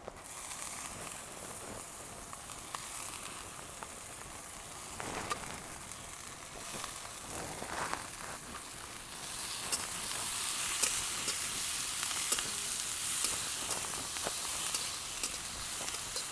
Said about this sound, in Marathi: कांदा चांगला परतून झाला आहे आता हे फुलं टाकून घेऊ